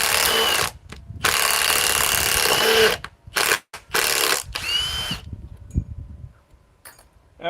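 A power drill bores holes in repeated bursts of loud, high whirring that start and stop abruptly, close by. Quieter clatter fills the gaps and there is no talking.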